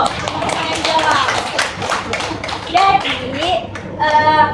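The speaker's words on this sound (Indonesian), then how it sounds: "Tepuk tangan dulu." A fourth-grade class claps their hands together in a lively burst of overlapping claps, with children's voices and chatter rising above the clapping toward the end.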